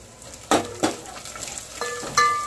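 Spices and turmeric being sautéed in a pan, heard mostly as two sharp utensil knocks followed by softer scraping and clinks, with only a faint sizzle underneath.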